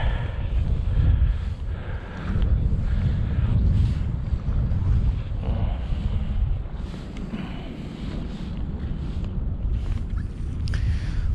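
Strong wind buffets the microphone outdoors while fishing, with a constant low rumble and gusting roar, surging and easing over the whole stretch.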